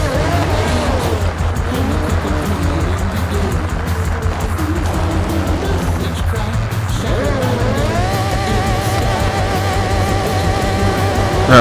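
An Aston Martin racing in Forza Horizon 6, its engine droning loud and close throughout, with rising and falling revs, gear shifts and a sharp climbing surge near the end, tires squealing at moments.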